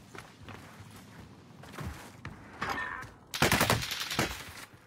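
Gunfire in an online multiplayer shooter: a few scattered shots early on, then a loud, dense automatic burst in the final second and a half, with faint movement sounds between.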